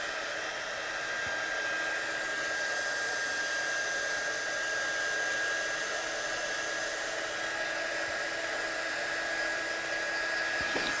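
Heat gun blowing steadily on a stamped card, a continuous airy whir with a high whine held for the whole stretch, close and moderately loud, no talk.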